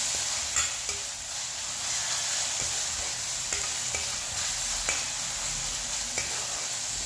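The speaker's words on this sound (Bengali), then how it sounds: "এবার এই মশলাটা দিয়ে আবার একটু ভেজে নেব।" Blended spice mix for a sea crab curry fries in a pan, a constant close sizzle with repeated scraping stirs of a spatula, and no talking.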